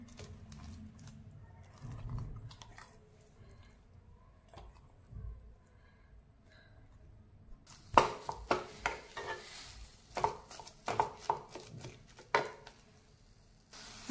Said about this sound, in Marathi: आता कढईमध्ये आपण जे आवळे बारीक केलेले आहेत ते घालतीये मी.